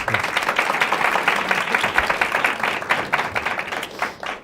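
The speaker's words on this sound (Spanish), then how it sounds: "Daniel Matamala, Mónica Rincón, un aplauso para nuestros invitados" Audience applause for guests at a Chilean CNN event, a full, lively wash of many people clapping, loud and close, rising and falling slightly before fading out at the end.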